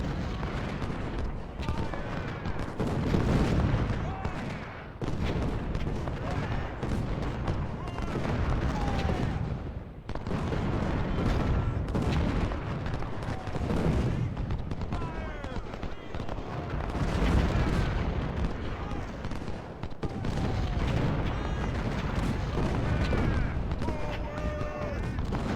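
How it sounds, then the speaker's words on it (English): A sustained Civil War battle in Ultimate General: Civil War keeps up a continuous crackle of musket volleys and deep artillery booms at a steady, heavy intensity, with a commentator talking over the din. "all we're doing really is exchanging fire"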